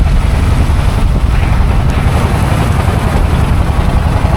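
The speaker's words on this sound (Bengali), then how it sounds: "হঠাৎ করে বৃষ্টি আর ঝড় দুটো একসাথে শুরু হয়ে গেছে।" Sudden rainstorm sweeping over Dangmari canal in the Sundarbans during the monsoon, a loud, steady roar of wind buffeting the microphone with rushing water beneath, continuous and unbroken with no voices.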